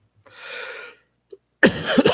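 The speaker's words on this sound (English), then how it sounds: "I didn't mean to cough right into the microphone there" A single harsh cough, close and loud, after a brief breathy sound and a moment of quiet.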